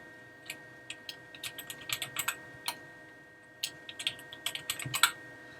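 Someone types a password on a computer keyboard, with short bursts of crisp, close key clicks separated by a brief pause, in an otherwise quiet room.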